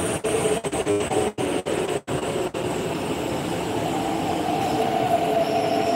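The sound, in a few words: East Rail Line train at Hung Hom platform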